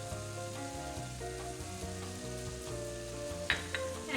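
Food frying in a pan while cooking baked pasta, a steady sizzle over a constant hiss with a few sharper crackles near the end and no talking.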